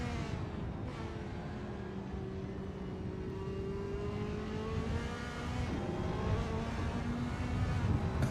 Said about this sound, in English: The Volvo is a seemingly quiet sounding car.